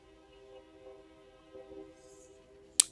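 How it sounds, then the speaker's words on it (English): A train passes at a distance: a faint, steady rumble with a tonal horn-like hum running throughout, and a sharp click near the end. "I don't know if you can hear the train going by."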